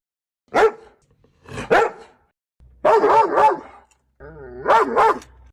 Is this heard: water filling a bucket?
no